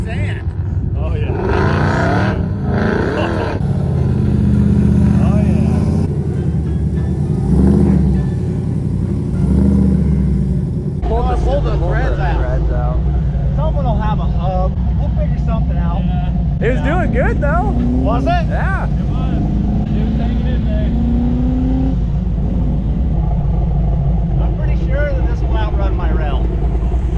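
Off-road vehicle engine droning steadily while driving through the Glamis sand dunes, a loud, close, continuous rumble that stays under people talking throughout.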